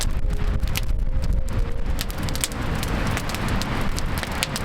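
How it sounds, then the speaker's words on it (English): Strong wind roars and gusts steadily during a blizzard while truck camping in the snow, a loud broadband rush with crackling buffets against the microphone throughout. "It's really windy."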